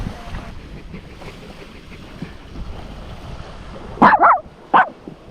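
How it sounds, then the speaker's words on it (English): A dog on a remote beach along the Darien Gap barks at a crab in a few short, sharp bursts near the end, loud and close over a steady wash of wind and sea. "now he's just barking at the poor crab."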